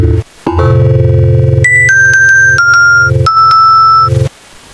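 Bell voice on an electronic keyboard, played as a short run of sustained, ringing tones that shift pitch every half second or so, loud and alone over a steady low accompaniment.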